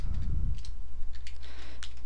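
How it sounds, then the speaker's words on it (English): Fingers tap out a search on a computer keyboard, a short run of light, irregular clicks heard close by with no voices. "you're gonna go to Google, and you're gonna type in"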